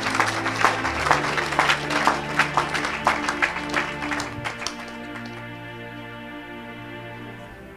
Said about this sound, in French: Lorsque vous tapez les mains, j'attends.